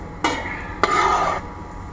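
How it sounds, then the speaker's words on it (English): Back of a chef's knife scraping chopped food across a cutting board while cooking a beef and basil stir-fry, two short rasping strokes, the second longer, close and fairly loud with no talk. "I'm using the back of my knife to scrape here."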